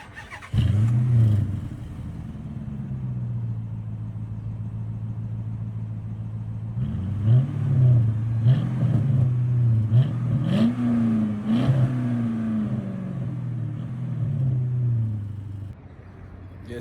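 Stock V6 car with its factory mufflers still fitted: the engine fires up with a sharp burst, settles into a low idle, then climbs through a run of quick blips and revs before dropping back, close and loud.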